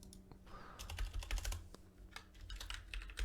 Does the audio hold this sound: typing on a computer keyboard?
yes